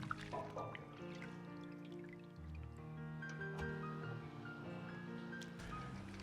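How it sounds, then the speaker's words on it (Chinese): Shredded potato strips rinsed in a basin of clean water while cooking a restaurant-style potato and shredded pork stir-fry: quiet splashing, dripping and sloshing with a few sharp clinks, accompanied by soft background music. "放入清水，最好是要清洗2遍，目的是清洗出土豆里边多余的淀粉"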